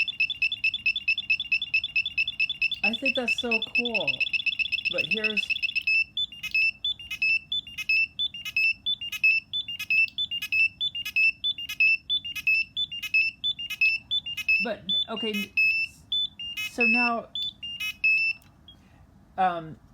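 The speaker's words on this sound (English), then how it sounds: "So that's just the buzzers." Electronic buzzers on a modified 2D LED sequencer kit beep in a fast continuous train, then settle into a steady pulsing rhythm, with a person briefly talking between the beeps.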